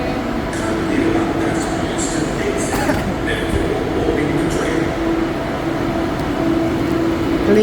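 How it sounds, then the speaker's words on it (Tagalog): KLIA Express airport train in Malaysia, a steady loud rumble of the carriages arriving at the platform, with people talking faintly over the continuous rail noise. "ito na yung train"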